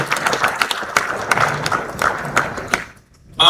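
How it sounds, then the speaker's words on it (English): Audience applause in a hall at a regional security summit: dense, lively clapping with some thumps, sustained for a few seconds before tapering briefly, then a fresh burst at the end. "let's give him a resounding round of applause"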